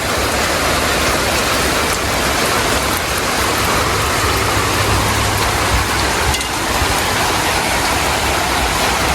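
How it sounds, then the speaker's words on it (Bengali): Heavy rain pours down in a dense, unbroken roar of drops striking surfaces, loud and close throughout without pause. "এই বৃষ্টি এখন মনে হয় না যে থামবে আমার কোনো লাইন নেই কারণ এরকম বৃষ্টি নামলে প্যাট প্যাট বৃষ্টি নামলে এই থামে না"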